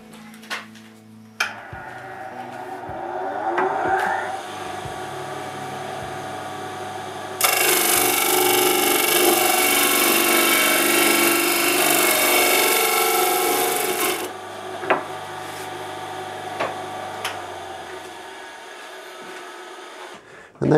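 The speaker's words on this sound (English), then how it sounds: "So we just need to get that to the disc sander and get that cleaned off." A disc sander cleans off a proud section of a wooden Rickenbacker 620/12 guitar neck, with a loud sustained grinding rasp of about seven seconds between quieter workshop handling knocks and a machine hum.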